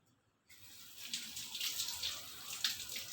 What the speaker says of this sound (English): This is colocasia leaf and this is how you wash it.